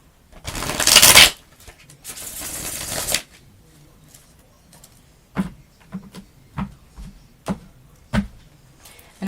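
Tarot cards shuffled in two loud, dense riffles near the start, followed by a series of short, separate taps and snaps as cards are handled and laid down, close and alone without talk.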